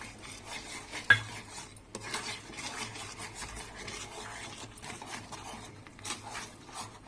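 A spoon scrapes and stirs Bombay Karachi halwa with ghee in a pan, a steady close rasping and sliding with one sharp knock near the start.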